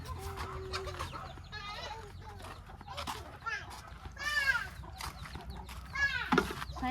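Chickens cluck and squawk at a rural farmyard among ducks, several birds calling in bursts near and mid-distance, with faint voices talking intermittently underneath.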